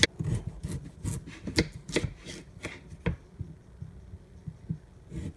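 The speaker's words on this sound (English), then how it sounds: "Cut them in quarters as such, and then slice" A knife chops vegetables on a board, cutting them into quarters and then slices, with quick, crisp, irregular taps that cluster early and then thin to sparser, fainter cuts, close and without talk.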